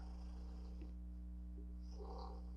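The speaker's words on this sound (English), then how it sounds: "Is he snoring? Yeah, he's sleeping." Deep, rumbling snoring from a sleeping man, loud and continuous, with a rough low rattle and one breath surge midway, set over a steady low hum.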